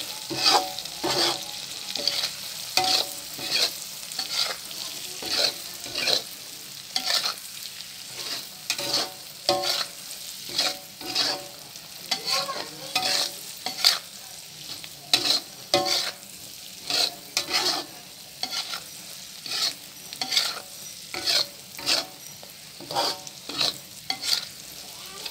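Scrambled eggs and sausage fry in a pan under a constant sizzle, with a spatula scraping and tapping in a quick, steady rhythm throughout, close up and with no talking.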